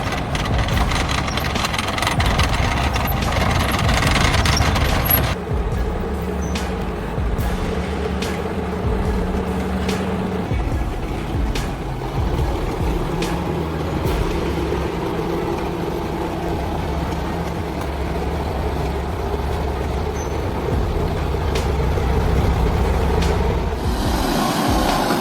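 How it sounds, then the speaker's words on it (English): An old 1975 log truck's engine idles and rumbles with a low, steady throb, rising louder at the start and end, with a clear metallic clank near the middle and no talking. "The toughest log truck you can find is a used 1975 model."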